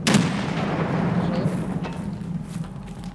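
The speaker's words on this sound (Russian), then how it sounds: "Еще грена летит, аккуратно." A grenade blast in Escape from Tarkov: a sharp, loud boom at the start, then a long rumbling decay that fills the rest of the moment; no voices.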